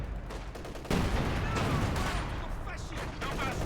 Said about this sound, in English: Caddy's really doing a job for the allies as well, with the creeping barrages